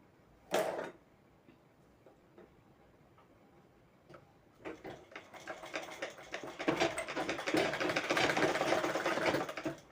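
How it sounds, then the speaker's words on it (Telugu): Sewing machine stitching together two pieces of blouse lining cloth: a brief knock and a few faint ticks, then a fast, rhythmic mechanical whirring run that builds and continues loudly to the end. "ఈ విధంగా మనం ఫస్ట్ కుట్టుని వేసుకోవాలి. ఈ రెండు క్లాత్ని ఈ విధంగా జాయింట్ చేసుకోవాలి."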